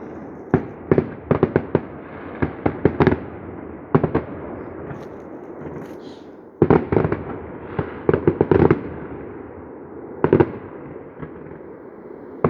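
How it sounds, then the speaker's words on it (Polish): Fireworks crack and pop in rapid clusters of sharp bangs, some distant and some closer, with brief lulls between volleys. "Słyszycie, jakie to jest strzelanie jest fajerwerkami?"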